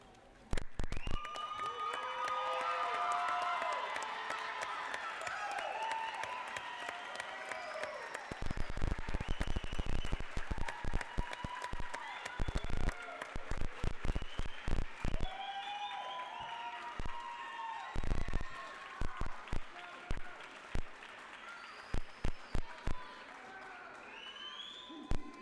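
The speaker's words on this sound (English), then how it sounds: "Let's all stand and give them a round of applause." A graduation audience for RN graduates stands and applauds with some cheering, clapping swelling in bursts and fading over about twenty-five seconds, fairly distant and uneven, with quieter gaps between waves.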